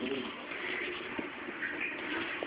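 A pigeon or dove coos faintly outdoors, soft repeated calls set against a steady background hiss, with no voices over it.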